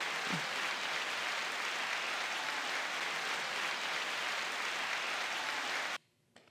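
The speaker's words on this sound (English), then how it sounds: "9-second applause" Sustained applause, a steady even wash of clapping that holds at the same level for about six seconds and then cuts off abruptly into near silence.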